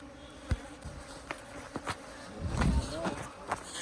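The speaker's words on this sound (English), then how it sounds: "There are bees everywhere" Honey bees buzz close by in a low, wavering drone during wild honey extraction in Kashmir, with several sharp clicks and knocks scattered over the hum.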